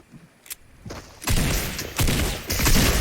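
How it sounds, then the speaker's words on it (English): Shotgun fire in a video game: a quiet lead-in with a couple of soft thumps, then loud, dense blasts and rattling gunfire bursts filling the rest of the clip. "My gun runs out of ammo, so I decided to shotgun him."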